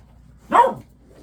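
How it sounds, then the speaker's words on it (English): A single sharp bark from a corgi, close and loud, over a quiet background. "I hope you don't mind Corgi barking"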